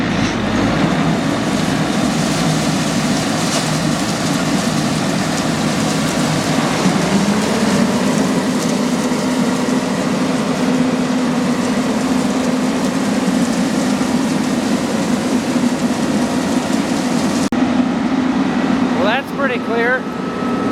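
A combine harvester's engine turns over and runs after a cleaning, still with a belt problem, giving a loud steady drone that holds throughout, with a slight rise in tone partway through.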